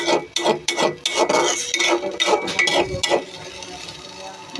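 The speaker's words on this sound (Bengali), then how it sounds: "এখন পাঁচমিশালি মাছগুলো আমি দিয়ে দিচ্ছি" Mixed small fish dropping into a thick spiced masala and frying, with clinking utensil strokes and scraping over a sizzle for several seconds before it quiets to a low hiss; close by, no talking.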